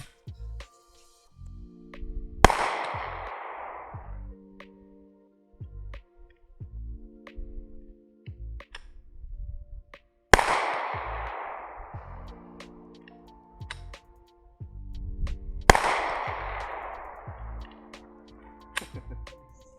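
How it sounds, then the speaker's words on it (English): A malfunctioning Husan Arms MKA919 semi-automatic shotgun fires three single shots several seconds apart, each a sharp bang with a short ringing decay, with quiet handling clicks between them. "So I shoot the remaining ammo in the mag just to confirm there's not a problem with the ammo"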